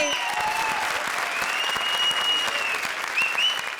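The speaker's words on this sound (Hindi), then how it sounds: "जोरदार तालियां प्रिंस के लिए।" A studio audience at a comedy show breaks into steady applause, dense and even, with a soft musical tone ringing underneath.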